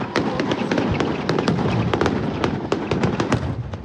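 Diwali fireworks at a celebration in New Zealand crackle and pop in quick, dense bursts. Loud and continuous, with rapid firecracker-like snaps throughout.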